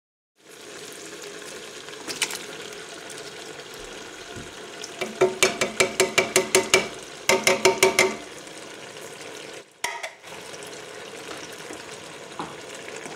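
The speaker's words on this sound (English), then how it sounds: "you're going to want to add your tomatoes and your red wine" Canned tomatoes and red wine go into a pot of softening vegetables for tortellini soup, giving a steady sizzle with a run of quick glugging pulses midway and a brief splash near the end, close and clear with no talking.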